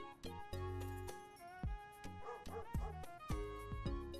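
Cartoon dogs bark in short, repeated yips at a boardwalk arcade in the video game Pupperazzi, mixed into bright, tinkling game music that plays throughout.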